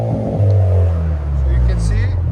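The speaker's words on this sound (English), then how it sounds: "All right, give it gas again now. So you guys can see it's more uniform, a lot louder." A 2025 Hyundai Elantra N in N mode revs its exhaust up close: a loud, steady, even drone with a deep low rumble that holds throughout.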